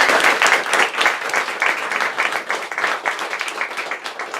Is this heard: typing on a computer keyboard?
no